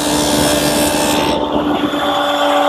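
A table saw cuts a rabbet into a wooden seat slat for a planter box bench, making a loud, continuous whirring cut with a steady tonal hum and a shift in the rasp partway through.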